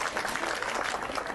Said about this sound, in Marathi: चला टाळ्या वाजवूया